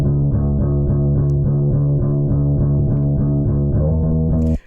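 Lo-fi guitar and bass loop built in LMMS from a computer-microphone recording, with saturation and a low-pass filter giving it a muffled, distorted tone; a steady, loud rhythmic pattern repeats throughout with no talking.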